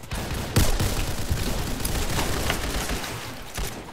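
Pistol gunfire in the Roblox game Ragdoll Universe, a few sharp shots and bursts cracking out with a rough, noisy tail, loud at first then fading.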